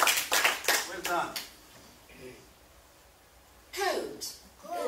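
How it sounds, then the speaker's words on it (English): A short burst of hand clapping at the start, then a quiet pause, followed by a brief voice and more clapping near the end. "Clap hands for Ahmed."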